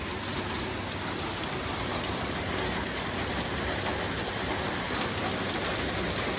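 Heavy rain pours down steadily, a dense, constant hiss of drops hitting surfaces close by, with no voices.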